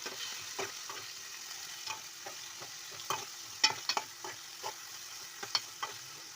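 Raw prawns fry with gongura leaves in a pan, a quiet steady sizzle broken by soft, irregular stirring clicks and scrapes from the spatula, with no talking.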